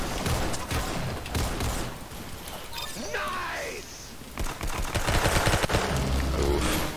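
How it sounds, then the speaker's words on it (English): Gunshots crack in bursts during a round of the Roblox shooter Arsenal, with scattered impacts and game effects in between and a heavier volley near the end. "I only had to shoot him like once."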